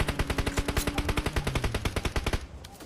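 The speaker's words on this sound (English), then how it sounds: "The gunshots coming in once more." Rapid automatic gunfire from PUBG Mobile rattles out in a dense, steady stream of sharp shots for over two seconds, loud and close, then cuts off abruptly into a quieter tail.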